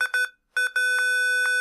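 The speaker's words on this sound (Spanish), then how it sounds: "nuestra alarma sonora y visual de calor se va a encender" An egg incubator sounds its over-temperature alarm at 40 degrees, a loud, piercing electronic beep pulsing in quick bursts, then a short gap, then a long steady tone.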